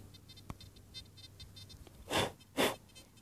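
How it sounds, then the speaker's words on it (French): A mosquito buzzes faintly in a field at Revaux. The thin whine stays quiet near the ear, with soft ticks and two louder brief rustling bursts near the end. "attendez j'ai un moustique qui me pique"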